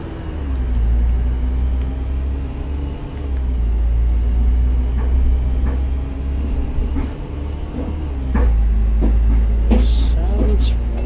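Low, steady diesel rumble of an Enviro500 MMC Facelift double-decker bus in OMSI 2 on a Hong Kong West Kowloon route, engine droning continuously with swells as it pulls away, plus a few faint clicks and a brief hiss near the end.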